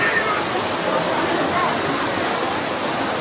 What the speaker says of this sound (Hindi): झरनों से पानी गिर रहा नीचे।